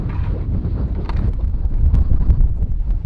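Steady wind rumbles and buffets the microphone outdoors on a ski slope at Cardrona, a low continuous roar with faint gusty swells and no voices.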